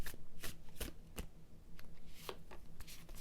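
Cards are shuffled close by in quick riffling bursts and soft slaps, repeating irregularly with no talking.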